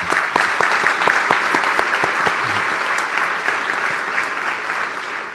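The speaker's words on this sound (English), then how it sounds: "Let's give her some applause" An audience at a ceremony applauds, with dense hand-clapping that starts strongly, holds steady for several seconds, then begins to thin out.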